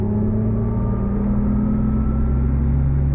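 A 2023 Mercedes-Benz EQE 350 electric luxury sedan accelerating, heard from inside as a loud, steady low rumble of road and drivetrain noise with a faint rising whine, no talking.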